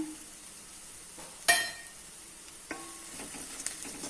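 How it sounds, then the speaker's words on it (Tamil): Onions sauté in a pan on the stove with turmeric powder and salt for mosambi rice, a faint, low sizzle broken by one sharp metallic clink and a few softer scrapes. "வெங்காயம் ஓரளவுக்கு வதங்கிருச்சு. நான் மஞ்சள் பொடியும் மீதி இருக்கிற உப்பும் போட்டுறேன்"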